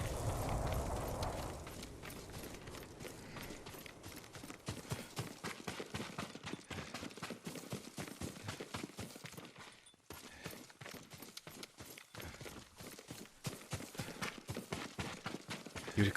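Horse hooves galloping in Ghost of Tsushima, a steady fast clip-clop rhythm running throughout, loud and close, with game ambience underneath and a brief dip near the middle.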